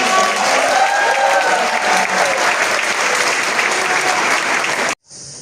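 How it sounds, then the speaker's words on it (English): An audience at a gala concert and awards ceremony in Lithuania breaks into sustained, full applause, a dense crowd clapping at even strength that cuts off abruptly near the end. "So please applause Yeva because she"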